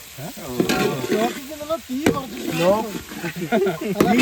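Tomatoes tipped into a hot pan for a chicken dish, frying with a close, steady sizzle and stirring while a person talks over it throughout.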